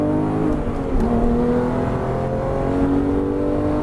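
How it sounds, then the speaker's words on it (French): A Porsche GT3 at full throttle on the Nogaro racetrack, its engine revving loud and close with a rising, steady howl that climbs in pitch through the gear, no voices over it. "allez gaz à fond"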